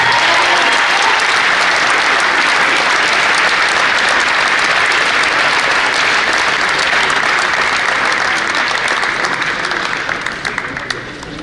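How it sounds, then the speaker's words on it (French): Sustained applause from a crowd at the French chess championship prize ceremony in Nîmes, 2018, steady and dense throughout before beginning to thin out near the end. "Et le champion de France 2018 vous demande d'applaudir Tigran Garanen."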